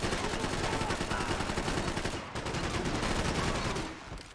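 Gunfire in the video game Max Payne 3 comes as continuous rapid bursts of automatic shots, dense and loud throughout with a brief break in the middle.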